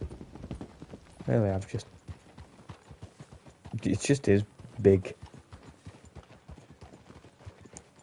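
Horse hooves clip-clop steadily at a walking pace in the video game Red Dead Redemption 2, a close, even rhythm running throughout while someone talks over it.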